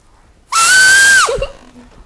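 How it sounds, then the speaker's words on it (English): A child's whistle blown hard in a classroom gives one loud, shrill sustained tone lasting under a second before falling off abruptly. "All did very good whistle, is it not?"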